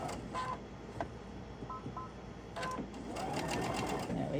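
A sewing machine stitching fabric strips at a fabric studio, the needle whirring in short bursts and then a longer steady run, with small clicks as the stitch length is adjusted.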